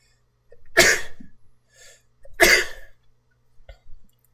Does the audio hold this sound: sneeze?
yes